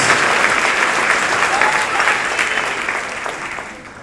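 A large audience gives scholarship recipients a big, loud round of applause, dense continuous clapping that holds steady and then gradually fades toward the end.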